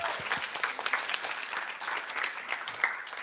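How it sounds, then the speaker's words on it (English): Workshop participants clap for themselves in a brief, fairly even patter of applause from a small group indoors, moderately quiet throughout. "I think we need an applause, all of us, to stay awake."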